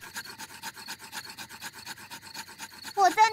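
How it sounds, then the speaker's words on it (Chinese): Two wooden sticks rubbed rapidly together to start a campfire in a Peppa Pig cartoon, a steady rhythmic rasping scrape repeating many times, ending in a brighter burst of sound. "我要用一个老方法来生火，就是通过不断摩擦这两根棍子。"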